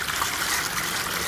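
Water pumped onto a roof by a brushless DC pump runs off in a steady, loud hiss of splashing and trickling flow, continuous and without pauses.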